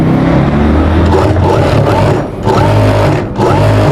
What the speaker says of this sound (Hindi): तो अब हम इसके बैन पे सिलाई लगाते हैं।